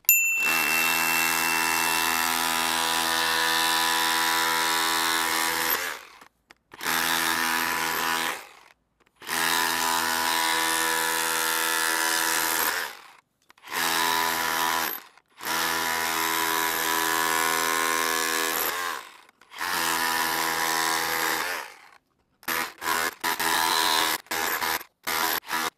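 A Ryobi RSDS18X cordless rotary hammer chisels concrete in loud, sustained bursts of rapid hammering, stopping and restarting several times, with short quick stutters near the end.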